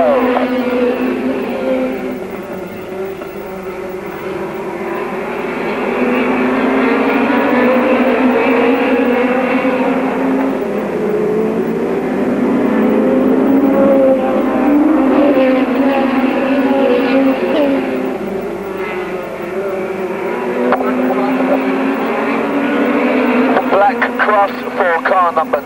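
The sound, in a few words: hot rod race cars racing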